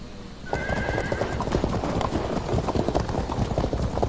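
Galloping hooves clatter in a steady, busy rhythm from horses in the strategy game Field of Glory 2, with a brief whinny near the start, loud and continuous with no talk over it.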